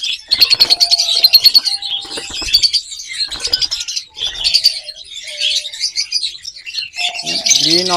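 A pair of green opaline split blue lovebirds chirp and squawk in rapid, sharp bursts close by, with occasional wing flutters and no voices.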